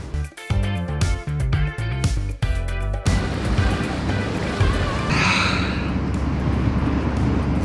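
Sea waves wash onto the shore of an island near Venice, a steady broadband surge with wind noise on the microphone, following a few seconds of louder, busier sound.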